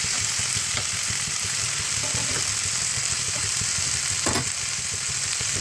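Ghugni with potatoes and spices frying in oil over a raised flame makes a continuous close sizzle, broken now and then by the scrape of stirring.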